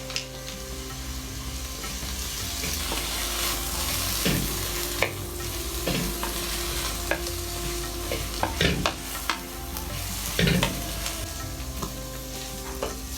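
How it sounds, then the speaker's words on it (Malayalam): Shallots with green chili, curry leaves and turmeric sauté in a pan for Kerala ulli theeyal, a continuous sizzle broken by repeated scraping stirs and utensil knocks, close and fairly loud. "എന്നിട്ട് നമ്മളിത് നന്നായിട്ട് വാട്ടണം"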